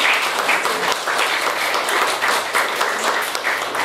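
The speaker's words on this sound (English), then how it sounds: "a big round of applause" An audience at a talk on a book and photography gives a sustained, dense round of applause, steady and fairly loud for nearly four seconds with no individual voices standing out.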